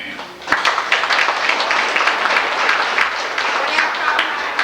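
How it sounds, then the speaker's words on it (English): A hall audience gives a loud, sustained round of clapping for a crew at a 1997 community meeting, dense and even throughout with no gaps. "her crew all deserves a big round of applause"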